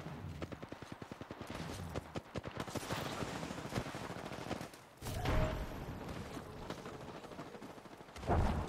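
Rapid automatic gunfire in a shooter video game, dense bursts of rattling shots with brief pauses and a heavier blast near the end, loud and continuous.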